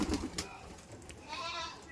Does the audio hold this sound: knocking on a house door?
no